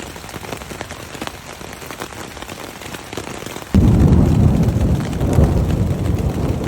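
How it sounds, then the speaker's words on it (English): Steady rain pours down on a Smoky Mountains campsite at night, a soft patter that suddenly swells into a loud, dense downpour drumming on nearby surfaces. "that was a good rain last night"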